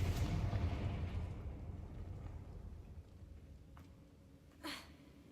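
A single loud magical blast from the Confringo spell in a video game, a deep booming burst fading into a long rumbling decay, followed by a faint sharp pop near the end.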